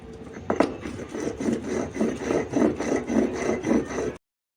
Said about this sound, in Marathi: या पद्धतीने वरवंट्या फाट्यावर चटणी वाटून घ्यायची